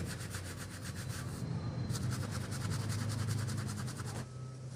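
Steady scrubbing of a stain on fabric during dry cleaning, a rhythmic, close rubbing with fast repeated strokes that carry on without pause and no voices.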